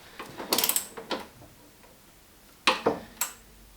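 A torque wrench ratchets on a strut brace bolt of a Toyota GT86 during a TRD strut brace install, giving quick bursts of close metallic clicking, one cluster early and another near the end.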